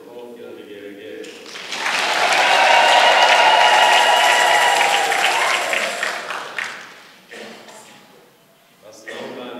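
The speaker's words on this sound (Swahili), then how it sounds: "Basi na sisi tujipongeze kwa makofi na vigelegele." A church congregation at a Catholic Mass bursts into loud clapping mixed with high, trilling ululation. It swells quickly, holds for several seconds, then fades into scattered claps and quiet.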